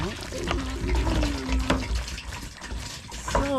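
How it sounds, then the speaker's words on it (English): Distilled white vinegar glugs and splashes as it is poured from a gallon jug into the rusty gas tank of a 1992 Honda Accord, a close, uneven liquid gurgle with people talking over it. "we finna pour this gallon of distilled white vinegar."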